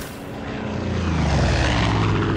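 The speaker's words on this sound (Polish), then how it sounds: "Samoloty." Propeller airplanes in the game Far Cry 5 approach, their droning engine roar swelling steadily louder over a couple of seconds with no talk.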